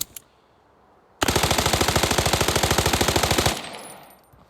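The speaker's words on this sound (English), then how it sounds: "Gunshot, like the sounds of the gunfire" A long full-auto burst from a new Arena Breakout weapon, loud evenly spaced shots cutting in sharply after a quiet moment, then stopping with a fading echoing tail.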